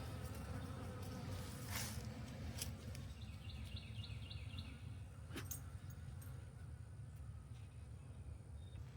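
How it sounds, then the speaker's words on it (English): A steady low buzzing of honey bees hums close by outdoors during a bee rescue, with a few faint bird chirps and light clicks in the background. "I've got some bees coming around wondering what I'm doing."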